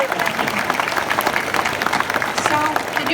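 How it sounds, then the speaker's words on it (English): A crowd applauds steadily, a dense wash of clapping hands over a few seconds, with voices mixed in underneath. "let's clap for Malthael"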